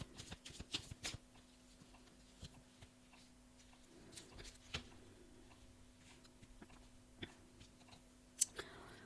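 Tarot cards are shuffled and drawn from a deck in a quiet room, giving soft close riffles and sharp flicks of card stock in scattered bursts, with light taps between them.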